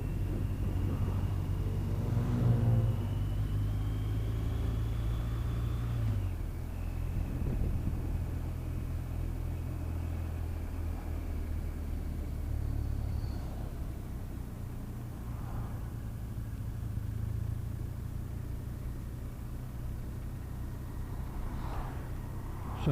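A car accelerates up a long motorway slip road toward 70, a muffled cabin rumble with rising engine tone and road noise that stays steady and fairly quiet throughout, without speech.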